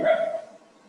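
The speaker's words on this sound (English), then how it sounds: "is this a dog who doesn't like our dialogue?" A single dog barks sharply nearby, one loud bark with a short yip-like tail that fades quickly, heard during a talk on spiritual teachings.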